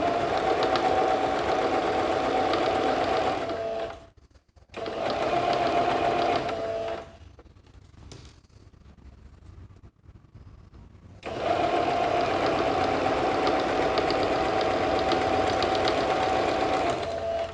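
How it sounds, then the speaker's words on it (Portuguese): A sewing machine stitches a fabric organizer bag in loud, steady bursts, running for about four seconds, pausing briefly, running again, then stopping for several seconds of quiet handling before a long final run. "direitinho e vou costurar. Pode fazer um retrocesso no início."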